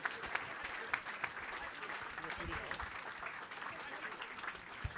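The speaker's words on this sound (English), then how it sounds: "Massive round of applause for Tracy Tizard" Audience applauding at Southampton Football Club's 2019 player awards ceremony, a dense, steady wash of clapping across the whole stretch with a few sharper claps standing out.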